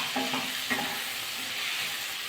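Eggplant fried with mixed vegetables in a pan gives a steady close sizzle, with a couple of light stirring scrapes early on.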